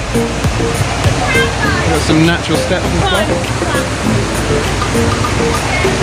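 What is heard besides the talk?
river water flowing through Saklikent gorge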